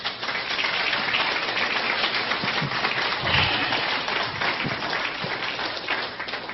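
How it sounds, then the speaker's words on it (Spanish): A church congregation gives loud, vigorous applause during a sermon, a thick continuous roar of clapping that stays strong and steady from start to finish. "Den un aplauso fuerte al Señor."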